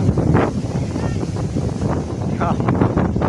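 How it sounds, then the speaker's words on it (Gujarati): Strong sea wind at the coast near Dwarka buffets the microphone in loud, gusty rumbling bursts, with a person talking over the blustery roar. "આમ જબરદસ્ત પવન આવે છે"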